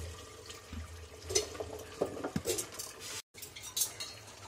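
Chunks of taro dropped into a pressure cooker of tender cooked meat, with several clanks and clatters of pieces and a utensil against the metal pot, close and fairly clear, with no talking.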